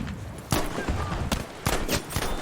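Mark IV revolver gunshots from Battlefield V gameplay: several sharp, loud bangs spaced irregularly over a continuous rumbling battlefield bed, each crack standing out close and punchy.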